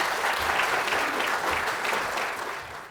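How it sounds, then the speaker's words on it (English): Audience clapping after a lecture on cognitive aging, a full, even round of applause from a seated crowd that thins out near the end. "Another round of applause for Joel."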